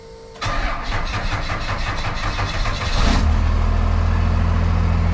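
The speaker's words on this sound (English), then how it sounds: "the starter on this thing I think is about to give out" Squarebody truck with a worn starter cranking in a rapid steady chug for nearly three seconds before the engine catches, roaring up loudly and settling into a steady rumbling idle.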